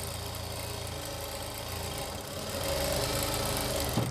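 A sewing machine stitching the lining of a kameez, running as a steady close mechanical hum that grows slightly louder partway through, with no speech.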